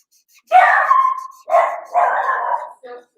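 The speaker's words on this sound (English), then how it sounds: "that dog will start barking." A dog barks loudly and close, two or three drawn-out, howling barks in quick succession, then a short yip.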